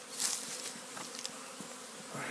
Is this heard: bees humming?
yes